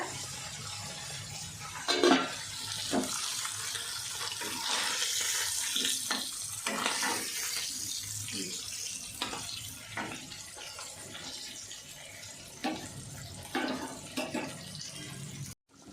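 A pot of curry boiling in a pan, giving a steady close bubbling and hissing sizzle throughout with a few sharper pops and splutters.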